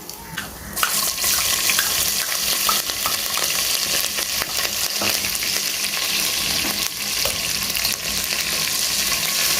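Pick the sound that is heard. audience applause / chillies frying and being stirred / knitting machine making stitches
chillies frying and being stirred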